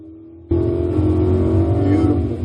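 Lamborghini Huracan on the Exotics Racing track in Las Vegas, a sudden loud engine roar that starts abruptly and holds steady as the car pulls away hard under acceleration.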